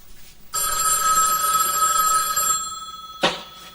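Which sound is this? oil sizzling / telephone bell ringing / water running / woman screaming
telephone bell ringing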